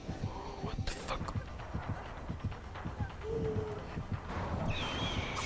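Birds cooing and flapping in the Dead by Daylight horror game, with footsteps and shuffling underneath and people talking over it.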